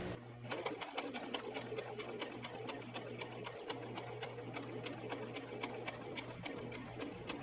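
A sewing machine runs a blind hem on a cotton pencil dress, a steady rapid mechanical stitching rhythm with a constant motor hum, fairly faint and close, with no voices.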